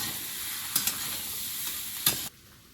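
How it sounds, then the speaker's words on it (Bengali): Potatoes sizzle steadily in a hot pan, a bright continuous hiss broken by a few quick scraping stirs before the frying noise cuts off sharply near the end. "আলুটা খুব সুন্দর করে ভাজবে"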